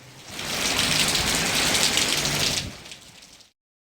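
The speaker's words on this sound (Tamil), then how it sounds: "திடீரென சுமார் 1 மணி நேரத்திற்கும் மேலாக கனமழை பெய்தது" Sudden heavy rain pours down in Pochampalli, Krishnagiri district, a dense, steady hiss of downpour close by that fills the clip for several seconds before cutting off abruptly.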